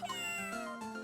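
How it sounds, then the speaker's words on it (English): A cat in the Ace Attorney: Justice For All game gives a single clear, drawn-out meow, loud and close, with no talk. "There is a cat."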